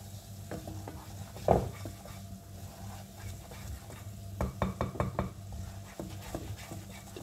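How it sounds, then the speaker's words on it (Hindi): Flour stirred into melted butter in a pan for a lasagna sauce, a soft sizzle running under repeated close scrapes and clinks of the spoon, no talking. "2 टीस्पून मैदा ऐड करें और इतना चलाएं कि इसमें गुठलियां बिल्कुल भी ना बने।"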